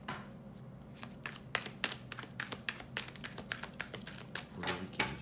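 Tarot cards shuffled for a Celtic cross spread, with quick papery riffles and taps coming in an uneven run of bursts; close but quiet, with no talking.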